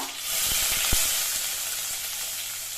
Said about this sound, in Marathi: आता कांदा ब्राऊन होईपर्यंत तेलामध्ये भाजायचा आहे